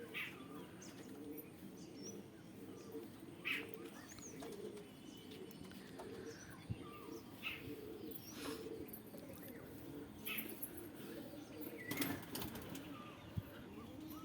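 Madras pigeons coo steadily at a home loft under a hazy, overcast sky after days of rain, a dense continuous murmur of soft low calls with occasional sharper chirps and brief wing flutters over background ambience.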